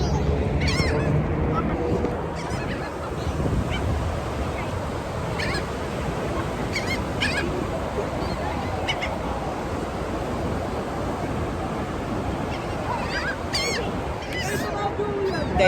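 Geese or similar birds honk repeatedly on a windy beach while being fed, several loud calls scattered over steady wind and surf noise, with children's voices faintly in the background.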